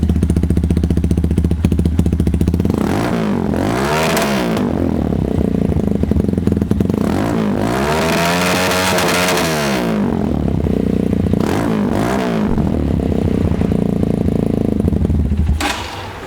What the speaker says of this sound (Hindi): इसमें जो एग्जॉस्ट सिस्टम लगा है SC प्रोजेक्ट का है और ये लाउड साउंड में है